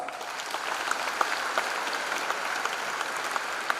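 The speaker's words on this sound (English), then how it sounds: "Yeah, give them a big applause." An audience claps for five-year M.Tech Computer Science and Engineering Data Science students standing up at a freshers' induction program, a steady hall-wide patter with a few sharper close claps popping out.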